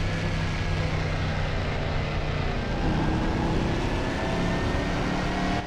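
Euronascar stock car engine in Assetto Corsa at Brands Hatch, a continuous loud droning roar that holds steady throughout with no pauses and no voices.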